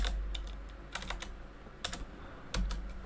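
Typing on a computer keyboard during a VMware lab rebuild, with soft, irregular key clicks and a few louder clusters of taps heard close up over a quiet room hum.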